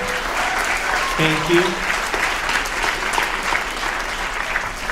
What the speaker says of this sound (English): Can we give one more round of applause for all of them?